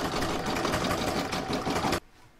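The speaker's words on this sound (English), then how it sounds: "So now I can pop that back in my machine and stitch round number 16" Embroidery sewing machine stitching backing fabric onto a hoop for a bauble design, a loud, steady mechanical whirr running for two seconds, then stopping abruptly.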